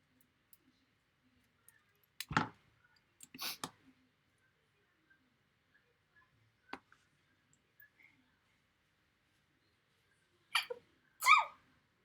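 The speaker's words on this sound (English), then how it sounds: "Sorry, I had to sneeze." Several sharp sneezes in a quiet indoor room during plastic model kit assembly, two near the start and a final close pair near the end, with faint clicks and small handling noises between them.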